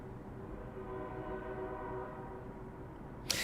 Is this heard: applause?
no